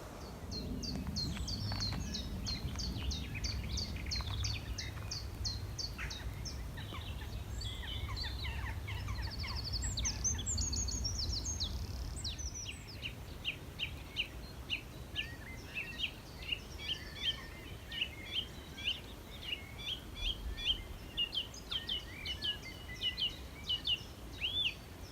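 Nightingale song at Knepp in England in May, quick repeated chirps and trills at a distance over a low rumble that fades midway, leaving the bird calls clearer against quiet background.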